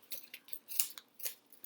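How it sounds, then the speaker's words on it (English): Scissors snip along the folds of a sheet of paper, four or five quick, crisp cuts close by in a quiet room. "So I'm just moving along each of these folds, cutting it open."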